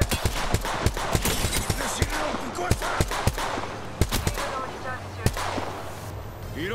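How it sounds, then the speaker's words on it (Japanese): Enemy gunfire in the battle-royale game Apex Legends comes as rapid, sharp shots in uneven bursts, close and loud. A voice talks underneath at times. "敵に撃たれてる。"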